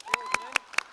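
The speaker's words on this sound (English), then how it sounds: "Let's give them a round of applause." Scattered clapping from a small group at a school theatre troupe's backstage gathering, four sharp, evenly spaced claps heard close over a faint sustained tone.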